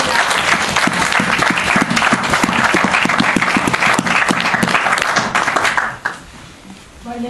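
A church congregation gives dense, loud applause for about six seconds, then it drops off abruptly and a few scattered claps and voices remain.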